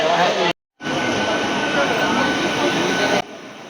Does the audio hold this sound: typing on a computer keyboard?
no